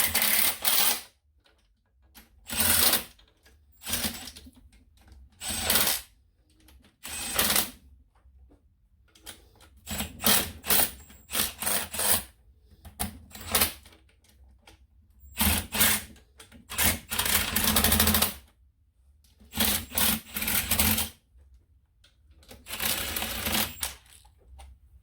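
Bolts on a Kawasaki 650 jetski engine being torqued with a ratchet, heard as close, irregular bursts of rapid mechanical clicking separated by short silent gaps.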